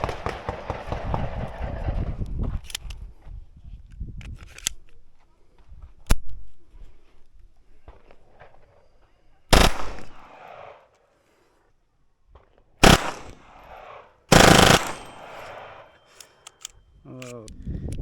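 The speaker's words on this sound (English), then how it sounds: "I've never shot something with an FRT trigger, so it's definitely freaking cool doing it out of a pistol." A Taurus TX22 compact .22 pistol fitted with an FRT trigger fires in a few sharp, loud, rapid bursts separated by quiet gaps. A person talks at the start and near the end.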